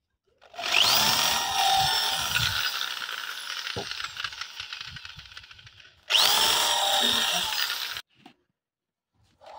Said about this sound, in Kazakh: тесіп дайындап жібереміз